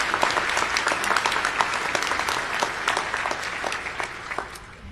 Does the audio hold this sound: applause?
yes